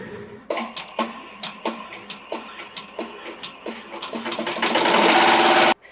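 A home embroidery machine stitches a monogram onto an Embroider Buddy doll, with close, loud, rhythmic needle thumps that speed up into a fast continuous whir before stopping abruptly.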